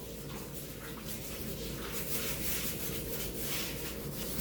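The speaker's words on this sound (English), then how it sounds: "You have to do a little scrubbing, but it's natural." A bathtub is scrubbed with baking soda and vinegar, giving a steady, close, gritty rubbing and swishing that holds fairly even over a few seconds, with no talking.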